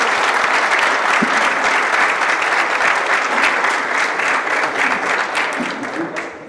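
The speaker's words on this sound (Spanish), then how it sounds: "Pues un aplauso," A conference audience applauds, with dense, loud clapping and a few murmuring voices underneath. It holds steady, then thins and fades toward the end.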